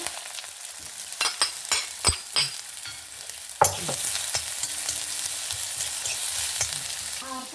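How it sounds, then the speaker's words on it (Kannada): Onions hitting a tablespoon of hot oil in a pan for an okra stir-fry: several sharp clattering stirs early, then a sudden burst of crackling sizzle that continues steadily, close and fairly loud, with no talking. "ಒಂದು ಟೇಬಲ್ ಚಮಚ ಎಣ್ಣೆ ಹಾಕೊಂಡಿದೆ ಈರುಳ್ಳಿ ಹಾಕೊಂತ ಇದ್ದೆ"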